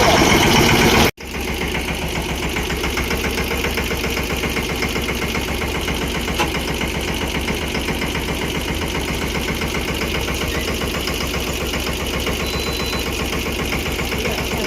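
A tractor engine idles steadily and loudly nearby while unloading a load of soil, a continuous rumbling throb that runs unbroken after a short opening knock.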